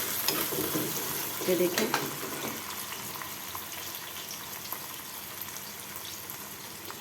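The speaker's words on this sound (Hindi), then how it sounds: "ऑयल डाल के अपना कटा हुआ प्याज उसमें हमने ऐड कर लिया। इसको हम थोड़ा सा सौटे करेंगे।" Chopped onion sautéing in oil in a pan, a faint steady sizzle with light stirring scrapes, and a brief spoken remark near the start.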